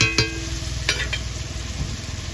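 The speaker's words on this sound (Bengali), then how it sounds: "মশলাটাকে আমি ভালো করে কষিয়ে নেব।" Spice paste with ripe tomato sautéing in a hot pan, a steady loud sizzle with scraping stirs and a couple of sharp clinks of the utensil against the pan, close up and without talk.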